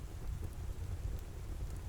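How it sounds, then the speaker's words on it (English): Soft, steady rain falls gently on a cottage garden, a continuous low hushing wash with no distinct drops or voices, faint and even throughout. "soaking gently under the steady rain"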